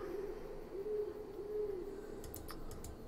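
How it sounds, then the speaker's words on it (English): An owl in the hidden-object game Haunted Legends hoots in a low, wavering call across the first two seconds, followed by a few quick sharp clicks near the end, alone and fairly quiet. "there's our buddy owl"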